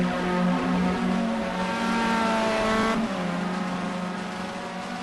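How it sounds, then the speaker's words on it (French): A race car engine whines at high revs during a race at Albi, then drops pitch abruptly as it brakes, before continuing with a lower, steady engine note. "Grégory Cato qui porte son attaque. Au freinage."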